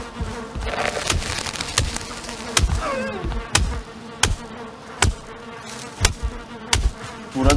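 Steady buzzing of bees in the video game Valheim fills the background while sharp, regular knocks or hits repeat about once a second over it.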